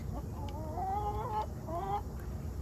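Several hens cluck and call in overlapping bursts, fairly close, over a steady low background rumble.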